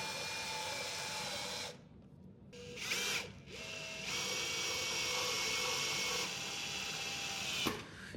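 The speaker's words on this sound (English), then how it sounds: "with a number 2 Phillips head bit in your drill, you're going to attach the back of" Power drill fitted with a number 2 Phillips bit driving screws into a toilet flange adapter while installing a TOTO Aurora Washlet: close whirring bursts broken by short pauses, and a brief click near the end.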